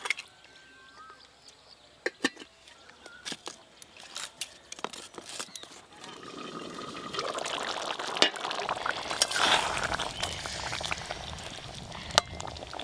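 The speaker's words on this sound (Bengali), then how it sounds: "এবার জল দিয়ে দেবো" Water is poured into a pot of pumpkin and potato curry cooked with hilsa fish head. A few sharp clicks come first, then a rising, steady rush of pouring and sizzling liquid over the second half.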